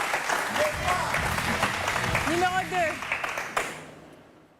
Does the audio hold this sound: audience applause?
yes